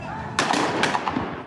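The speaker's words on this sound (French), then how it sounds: "des coups de feu sont tirés" Gunshots in the Moulins neighbourhood of Nice, near a drug-dealing spot: a quick cluster of sharp cracking reports, two louder ones followed by fainter pops, over a rough background din.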